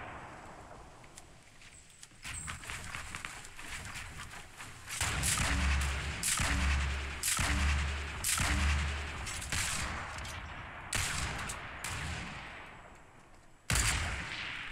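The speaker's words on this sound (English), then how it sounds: "See if these grenades reach." Grenade explosions in the Fortnite Battle Royale video game: a rapid run of deep, heavy blasts in the middle of the clip, with sharper cracks of gunfire before and after, set over steady game noise.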